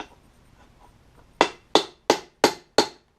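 Five sharp, evenly spaced hammer blows ring out close and loud, driving U-joint clips into place through a socket on an M1009 build, after a second of quiet.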